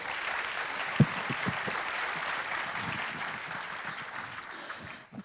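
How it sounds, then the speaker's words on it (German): Sustained applause from a panel-discussion audience in a cinema, with a few sharp, distinct claps near the start before the sound fades out at the end. "Ein Applaus nochmal."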